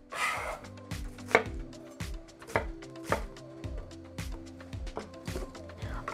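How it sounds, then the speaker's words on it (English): A knife rhythmically dices a quarter of a medium white onion on a cutting board, with steady close knocks and crisp slicing strokes about every half second, each chop loud and distinct over a quiet room hum. "roughly dice 1/4 of a medium white onion"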